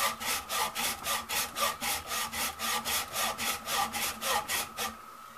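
A hacksaw cuts a keyway into the hub of a Gravely tractor, about a dozen even back-and-forth strokes in a steady rhythm, close and fairly loud, then stopping abruptly near the end.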